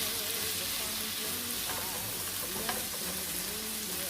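Scallions (green onions) sauté in a hot pan for ackee and saltfish, giving a steady, close sizzle and crackle throughout with an occasional stir, and no talking.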